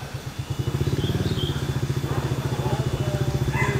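A 2008 Yamaha Vega 125cc motorcycle engine runs close by with a rapid, even thumping exhaust pulse that holds steady throughout.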